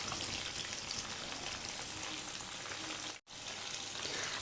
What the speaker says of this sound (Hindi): सो हमें इस तरीके से चिकन को फ्राई करना है